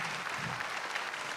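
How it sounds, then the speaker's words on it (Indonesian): Audience applause for stand-up comedian Eja Saputra at the SUCI 12 comedy competition, a brief, fairly soft burst of steady clapping from a crowd with no talk over it. "Tepuk tangan sekali lagi dong untuk Eja Saputra."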